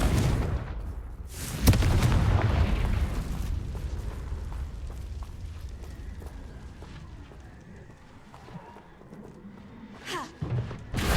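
A Confringo fire spell from Hogwarts Legacy bursts in a loud explosive boom near the start, then a low rumbling tail fades over several seconds before a smaller blast near the end.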